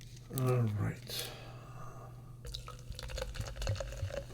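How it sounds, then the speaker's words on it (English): Ginger ale is poured into a glass up close, a soft trickling and gurgling stream after a brief voice at the start. "Pouring myself a drink because my mouth's getting dry."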